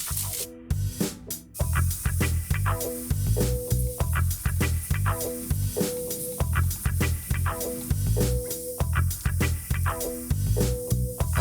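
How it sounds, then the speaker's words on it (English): A spray gun sprays freshly mixed, tinted automotive paint onto a spray-out card in a body shop, giving a steady airy hiss in repeated passes, partly masked by a rhythmic, tonal background. "I'll spray it out, get on a nice one of these spray out cards here"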